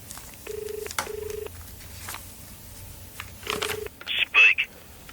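An old-style telephone rings with two clear double bursts, a pause, then another burst before the handset is picked up with a clatter; a voice is heard faintly in the background.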